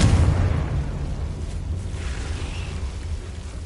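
Confringo spell explosion in Hogwarts Legacy, a single deep booming blast at the start that fades into a rumbling tail.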